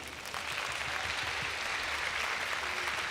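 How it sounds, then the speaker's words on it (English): Audience applause at a university entrance ceremony following a Japanese drumming performance, a dense continuous wash of clapping from a large crowd, fairly distant and even throughout. "Another round of applause for Wadai Koraku."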